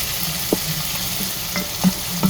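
Ginger being stirred in a frying pan with tomato, a steady soft sizzle broken by a few brief scraping clicks of the utensil.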